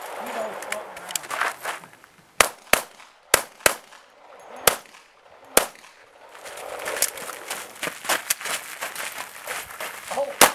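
Gunshots at a USPSA practical shooting match ring out as a series of sharp, single cracks with uneven gaps, moderately distant, while people talk on and off around them.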